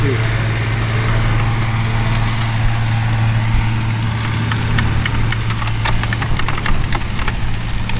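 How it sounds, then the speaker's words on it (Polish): A Wielton AGRO manure spreader works behind a tractor, a loud steady engine drone with a low mechanical hum and rattling spread material, a voice speaking briefly over it. "Polski rozrzutnik. Ładnie równo rozrzuca."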